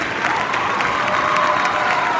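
A high school audience at Shorewood High School's 2019 Black History Celebration assembly gives steady, dense applause mixed with crowd noise and scattered shouts, filling a large hall without pause.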